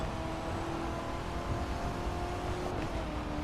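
Car engine in the racing video game The Crew 2 held against the rev limiter, a steady buzzing drone with a constant pitch throughout, fairly loud and unbroken, with no talking over it.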